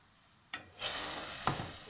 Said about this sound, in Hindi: हमने इसमें अपना मैरिनेटेड चिकन ऐड कर दिया। अब हम इसे डाल के भूनेंगे